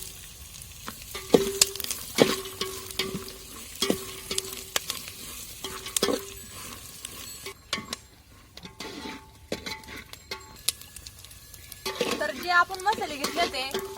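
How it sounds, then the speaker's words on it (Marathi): Coconut pieces being stir-fried in spice masala with chilli and turmeric in a pan during village cooking, with soft steady sizzling and repeated scraping and clinking of a utensil against the pan while a person talks over it. "आपण जे खोबरं कापून घेतलं होतं का ते पण आपल्याला चांगलं मसाल्यामध्ये परतून घ्यायचं आहे"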